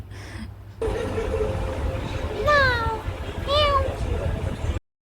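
Two rising-falling meows voiced by a person imitating a cat, standing out over steady background murmur and a low hum.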